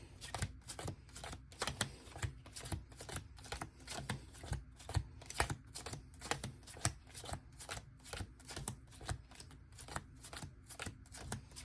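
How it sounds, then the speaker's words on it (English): Playing cards dealt one after another from a full deck during a bottom-deal demonstration, a fast steady stream of crisp snapping flicks, close and clear with no talking. "I'm just going to deal out the whole deck"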